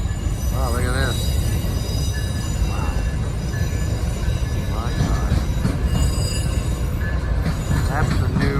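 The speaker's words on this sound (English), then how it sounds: "That's the new locomotives that Amtrak has got." Amtrak train with new locomotives passing at Santa Fe Junction in Kansas City, a loud continuous rumble of wheels on rail with screeching squeals and a voice speaking briefly over it.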